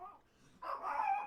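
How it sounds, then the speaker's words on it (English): A dog barks in a room, a single loud bark burst after a quiet moment, fairly close and clear with no talk over it. "No, dog, why are you barking?"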